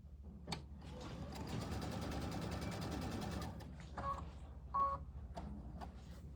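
A home sewing machine runs a steady 1/4 inch seam through quilting cotton for a tabletop banner, a sustained mechanical whir for about three seconds, followed by a few short bursts and clicks as stitching stops and starts.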